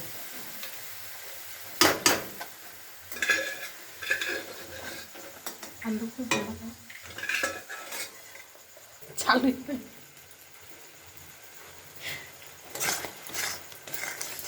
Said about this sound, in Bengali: ছোলাটা দিয়ে এখন একটু নাড়াচাড়া করে তারপরে জল দেব